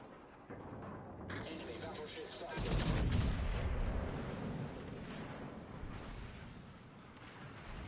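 Heavy gunfire from the battleship Bismarck in the naval game World of Warships: Legends, with broad, booming blasts that swell around the middle of the stretch over steady rumbling battle noise.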